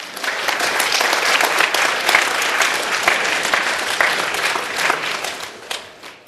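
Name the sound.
audience applause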